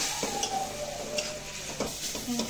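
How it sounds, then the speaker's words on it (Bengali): A potato and egg curry with cumin powder is sautéed in a pan, giving a faint sizzle with scattered scrapes and clinks of a spoon against the metal. "এটাকে একটু ভালো করে কষিয়ে নিতে হবে।"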